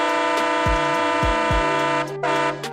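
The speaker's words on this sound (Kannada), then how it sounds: "ಟ್ರೈನು ಟ್ರ್ಯಾಕ್ ನ ಬದಲಾಯಿಸುವಾಗ ಈ ತರ ಹಾರ್ನ್ ಮಾಡುತ್ತೆ." A train horn sounds in three blasts with pauses between them, loud and close, with no talking.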